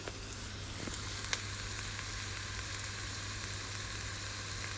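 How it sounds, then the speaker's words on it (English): Mirepoix with carrots sauteing in a pot for lentil soup, a steady close sizzle with a couple of faint stirring clinks, no talk. "Just sauteing the mirepoix, if we're being technical."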